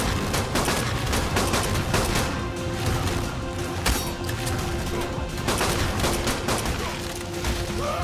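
Rapid, dense gunfire crackles throughout the ARK video game, loud and close, with overlapping shots forming a continuous barrage and no pause.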